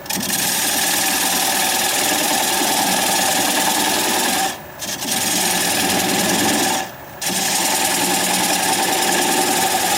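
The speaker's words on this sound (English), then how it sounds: "I'm going to use a 3/8 inch bowl gouge and commence to removing that tenon." A 3/8 inch bowl gouge cuts a tenon from a sassafras bowl on a wood lathe spinning near 600 RPM, a loud, steady, close scraping hiss broken by two short pauses.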